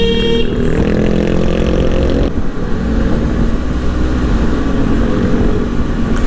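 A Benelli 502C motorcycle rides along a road in the Philippines, its engine droning steadily and loudly with wind rush, shifting pitch as it changes gear partway through.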